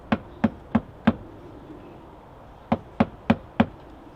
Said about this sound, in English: I'm going to push it, tap it in, so it's well into the mortar.